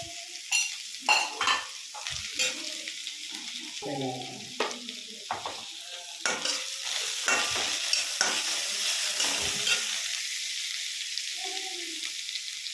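Chopped onions and tomatoes fry in a pan and are stirred, making a close, quiet sizzle with repeated scraping strokes and a few soft clinks.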